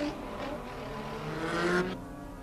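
A BMW touring race car pulls out of the pits at the 1986 Brno Grand Prix, its engine note steady and then swelling louder as it accelerates away, with other race engines in the background.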